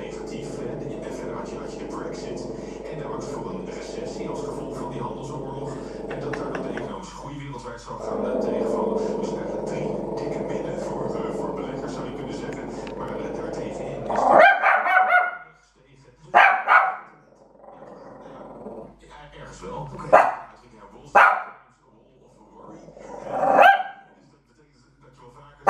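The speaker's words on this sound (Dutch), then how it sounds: "Weer een hond." A dog guarding a house barks in several sharp, loud bursts near the mic after a stretch of background noise, with a person talking in Dutch nearby.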